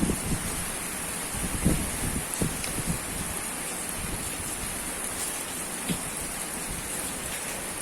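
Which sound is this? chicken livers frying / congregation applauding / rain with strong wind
rain with strong wind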